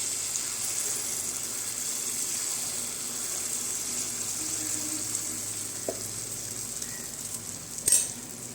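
Jackfruit unniyappam frying in coconut oil on a raised gas flame, a steady close hiss of bubbling oil running throughout, with a short faint clink near the end and no talking.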